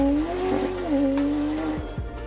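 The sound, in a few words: 1990s McLaren car with naturally aspirated engine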